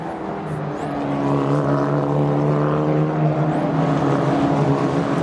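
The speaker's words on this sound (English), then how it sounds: "A big dive down the inside. Consani on Al Paxoy. They still go wheel to wheel." Single-seater E4 Championship race cars run wheel to wheel at Vallelunga, a continuous loud engine drone with steady tonal harmonics and rising intensity as the pack passes close by.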